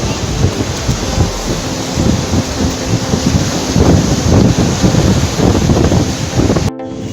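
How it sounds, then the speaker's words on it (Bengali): Ocean waves and strong wind on Puri beach at six in the morning, a loud continuous roar with surging pulses and heavy wind buffeting on the microphone, no voices. "সকাল 6টা, আমরা চলে এসেছি পুরীর সমুদ্র সৈকতে।"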